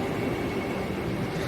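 A Vande Bharat train pulls in and stops at Thrissur railway station, giving a steady, loud, broadband rumble that fills the whole moment with no voices over it.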